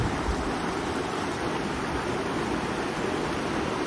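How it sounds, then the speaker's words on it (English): A pure mountain stream in the Har Ki Doon valley rushes steadily, a dense, even wash of flowing water close by, with no voices. "Just check this stream, right? So this particular stream is so pure that you can basically drink it."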